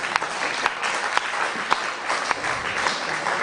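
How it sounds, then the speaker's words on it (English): An audience at an International Day of the Boy Child event applauds the speakers, dense steady clapping from many hands that fills the whole stretch, loud and sustained. "I would appeal to everybody to please give them a round of applause."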